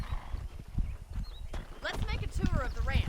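Hooves clip-clop in Red Dead Redemption as a horse walks in a loose, uneven rhythm of close thuds, with a short whinny at one point, while someone talks over it.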